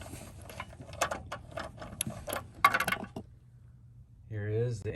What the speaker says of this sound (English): You will need a 1/4 inch wobbler